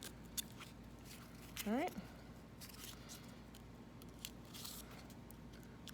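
Scissors snip through cardboard in a short rustling burst, near and fairly quiet, set among scattered small handling clicks, with a brief spoken word.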